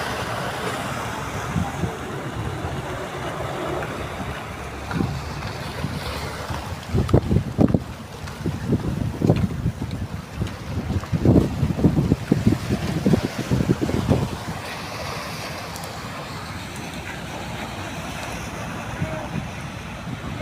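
Big sea waves wash and surge around a boat out at sea where large launches pass nearby, with heavy wind buffeting the microphone and a burst of louder splashing and rumbling in the middle; a voice speaks faintly at times.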